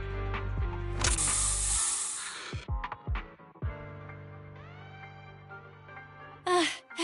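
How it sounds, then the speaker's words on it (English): A spray from a Bang Boo in the video game Zenless Zone Zero lets out a loud, sustained hiss of about two seconds over a low game background, followed by scattered effects and a brief sharp burst near the end. "Here, have a taste of this special Bang Boo spray."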